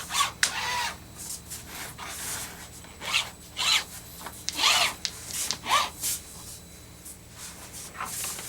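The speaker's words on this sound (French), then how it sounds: "Je commence par ouvrir les ailes du plomb." Lead came on a stained-glass rod having its wings pried open, giving a series of short scraping, rubbing strokes with irregular pauses, close and fairly quiet, no talking.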